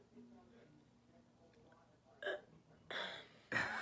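A few short, throaty burps come in quick succession near the end, each one louder than the last, preceded by a quiet stretch with a soft vocal sound.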